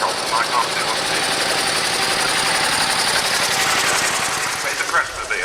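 A pre-1904 veteran Crestmobile car drives past during the London to Brighton rally, its engine a loud, rapid chugging clatter with a mechanical knock, heard close and steady, with people talking over it.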